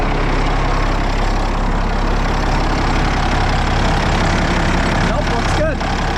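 An engine that has just started runs at a steady idle with a continuous low droning rumble, close by, with little change in pace.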